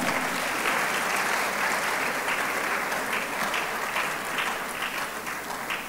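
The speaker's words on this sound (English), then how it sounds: "Round of applause once more." Conference audience at TWEEK 2025 clapping steadily, a dense, sustained wash of many hands from a sizeable crowd, moderately loud and even throughout, with no speech over it.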